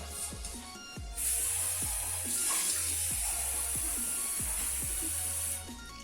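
Water pours steadily for several seconds into a pan in an oven while baking sourdough bread, a broad, rushing hiss, close by, over a low background rumble and a few light knocks.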